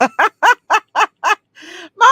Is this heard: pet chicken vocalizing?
yes